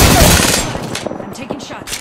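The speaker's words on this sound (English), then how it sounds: "Opening fire on the enemy." Gunfire in the battle royale game Apex Legends, a loud close volley at the start that fades into scattered softer shots and game noise.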